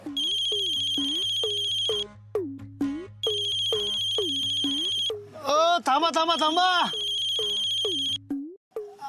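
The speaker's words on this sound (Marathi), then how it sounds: "तुमचा फोन वाजतोय" A mobile ringtone plays a repeating electronic melody in loud bursts, pausing briefly between rounds, while a voice cuts in over it partway through.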